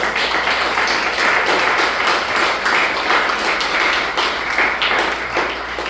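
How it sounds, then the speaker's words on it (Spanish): A church congregation claps in a sustained, even burst that fills the room, with no speech standing out above it. "Dale un fuerte aplauso a Dios"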